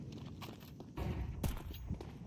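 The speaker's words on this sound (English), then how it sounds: "hearing the footsteps" Footsteps in a competitive tactical shooter match, a European pro league game, heard as a run of soft, quick steps among busy in-game ambience with a sharper thud near the middle.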